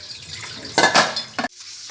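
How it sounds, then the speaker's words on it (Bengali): Dishes, pots and plates being rinsed and stacked at a kitchen sink, with soft clinks of cutlery and crockery and a louder burst of clattering partway through before it quietens. "মাছ আর মাংসগুলো ফ্রিজে রেখে এখন আমি থালাবাটিগুলো সব ধুয়ে নিচ্ছি।"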